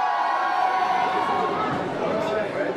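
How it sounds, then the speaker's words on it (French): A large impatient crowd of fans packed outside a toy store awaiting a wrestler, a steady dense roar of voices and shouting, loud and close, with a voice speaking over it. "La foule commence à s'impatienter."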